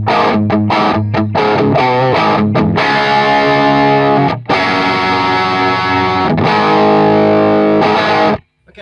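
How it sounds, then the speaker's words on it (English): Electric guitar played through a JTM 45 clone amp cranked to full volume, giving a loud, thick distorted tone with sustained chords and a few quick muted stops, played alone with no talking. "What I'm playing right now is a JTM 45 clone at full tilt."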